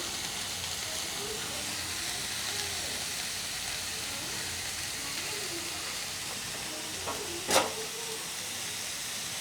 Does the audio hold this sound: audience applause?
no